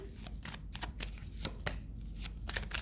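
Tarot cards are shuffled close by in quick, crisp riffling bursts that repeat irregularly, soft and dry against a quiet room, with no talking.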